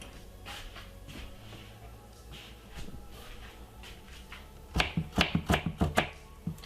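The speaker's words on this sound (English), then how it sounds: "So I'm just gonna simply cut it up finely, put it straight inside of it." Fresh ginger is cut finely with a knife on a board: soft scraping at first, then a quick run of about eight crisp, close chops near the end.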